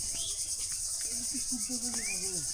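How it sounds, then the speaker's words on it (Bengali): Crickets chirp steadily in a village near Dhaka, a constant high, shimmering drone that runs through the whole moment, with scattered bird calls over it. "ঝিঝি পোকার ডাক"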